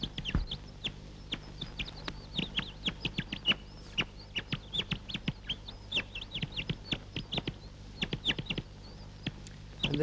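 Birds open the music in a film with quick, chirpy calls repeated in an irregular rhythm over a low steady hum, fairly faint and with no talk.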